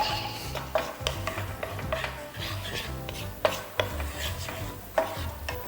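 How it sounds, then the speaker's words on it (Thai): Garlic stir-fried over low heat in a pan: a continuous soft sizzle under repeated scraping and tapping strokes of a spatula at a steady, moderate rhythm, close and fairly quiet. "เราก็จะผัดกระเทียมไฟเบานะครับ"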